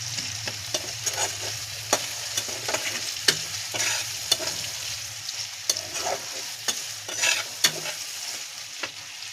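Onions fry lightly in a pan with a constant close sizzle, broken by repeated scraping and clicking strokes of a spatula stirring them. No one speaks.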